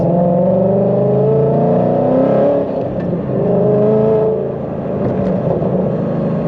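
A Ford Mustang GT with Corsa long-tube headers, a Corsa off-road X-pipe and Corsa extreme axle-backs rumbles loudly and steadily up close, its deep exhaust note swelling and dipping slightly as the revs shift.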